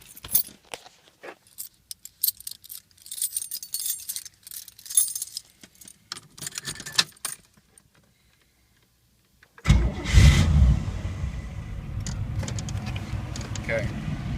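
A car with a newly fitted dual exhaust, tailpipes not yet attached, cranks and fires up after some keys jangle and light handling noises, then settles into a loud, steady rumbling idle.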